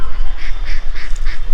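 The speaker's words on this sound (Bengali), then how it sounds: "এখানে বেশ কিছু হাঁস চড়ে বেড়াচ্ছে দেখতে পাচ্ছি সামনে" Several ducks quack loudly and close by in a rural village setting, a steady run of repeated nasal calls over low background rumble.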